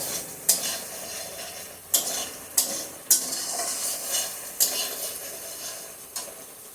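Spices sautéing and being stirred in oil for a stuffed pointed gourd (potol) dish, a steady sizzle broken by about seven sharp scraping strokes of a spoon against the pan, close and fairly loud, with no talking.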